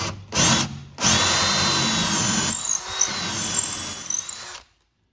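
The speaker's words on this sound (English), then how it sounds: "use the Forstner bits to cut all the way" A drill with a Forstner bit bores into a grand piano's wooden pinblock, starting in two short bursts and then running in a loud, steady grinding drone with squealing overtones before cutting off abruptly.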